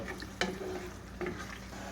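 Ginger garlic paste fries in a pan for an Andhra crab masala curry, a soft steady sizzle with a couple of sharp stirring scrapes, close and moderately quiet, no voices.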